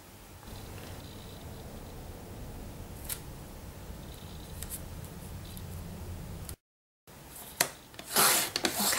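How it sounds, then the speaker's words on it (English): Strips of coloured cardstock being cut with scissors: a steady low rustle of paper broken by a few sharp snips, then a brief gap and a louder burst of crisp cutting and handling near the end. "I'm cutting some strips of paper from coloured cardstock, just varying kind of widths."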